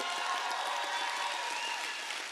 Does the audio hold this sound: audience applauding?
yes